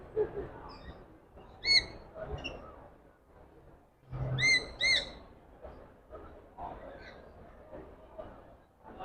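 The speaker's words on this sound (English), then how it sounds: "Even birds here." Several sharp bird calls ring out in short bursts over a murmur of crowd chatter and voices in a busy indoor pet expo.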